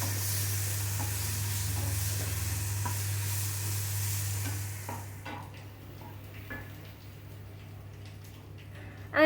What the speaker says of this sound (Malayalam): അങ്ങനെ പഴം നെയ്യ് ഒഴിച്ച് ഇതാ വേവിക്കാൻ വെച്ചിട്ടുണ്ട്.